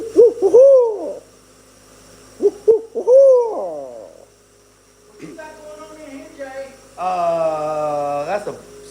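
Loud, close owl hoots come in a few quick bursts with wavering, descending calls, then longer buzzy tonal notes over a faint background hum, with no talk.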